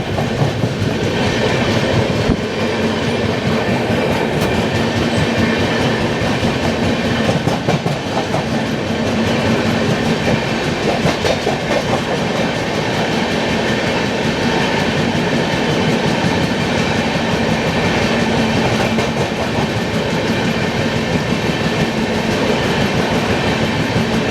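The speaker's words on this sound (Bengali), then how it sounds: "গরিবরথ পিক আপ নিচ্ছে" The 12882 Puri Shalimar Garib Rath Express picks up speed after leaving Bhubaneswar, heard from on board as a loud, steady rumble with rhythmic clickety-clack of wheels over rail joints.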